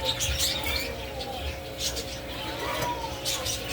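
Parakeets in a small home aviary in Bayanan, Muntinlupa chirp and twitter in scattered short calls, fairly faint, against a low background hum.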